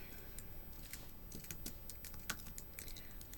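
A name being typed on a computer keyboard, a quick run of quiet, close keystrokes over a faint steady background hiss, with no talking.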